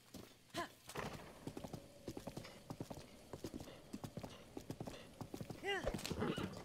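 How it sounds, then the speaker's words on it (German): Hooves clip-clopping in a quick steady rhythm as a horse gallops in the video game Zelda Breath of the Wild, with a couple of whinnies near the end, moderately faint. "Dann reiten wir mal wieder geschwind"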